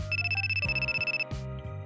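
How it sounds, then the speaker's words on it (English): A smartphone ringtone rings in a story game, a loud electronic melody of bright repeating tones over a pulsing beat, heard alone with no talk. "Ugh, my phone is ringing."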